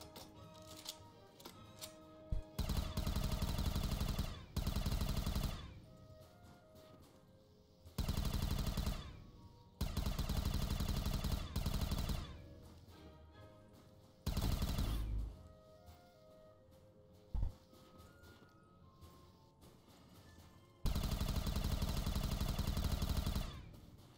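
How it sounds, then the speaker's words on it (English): Heavy automatic gunfire in a modded zombies shooter on the Lakeside map, coming in long loud bursts of several seconds each, broken by short gaps and single sharp shots. "That's a lot of shooting."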